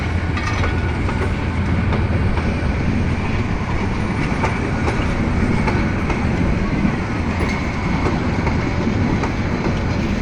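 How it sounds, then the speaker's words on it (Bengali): A long passenger train pulls out of Joydebpur station, its wheels and carriages rumbling loudly and continuously with a steady clatter, heard close and alone without any talk. "ময়মনসিংহের উদ্দেশ্যে জয়দেবপুর স্টেশন থেকে ছেড়ে যাচ্ছে ট্রেনটি"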